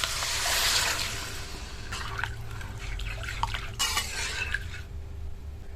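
Water pours into a fish curry of potatoes and pointed gourd as it cooks, a broad splashing rush that is strongest at the start, then continues as steadier trickling and bubbling with a few sharper drips.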